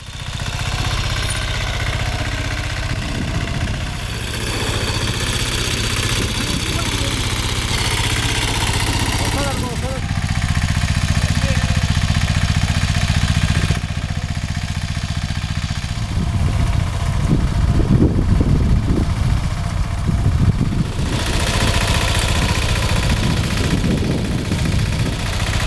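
A small farmer-built petrol tractor engine runs with a steady low, throbbing drone that swells and rumbles at times, with voices heard over it now and then.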